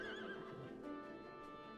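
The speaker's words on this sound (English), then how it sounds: "Oh, a red horse." A horse neighs in the video game Final Fantasy XIV, a clear whinny with rising and falling pitch at the start, over steady game background music and ambience.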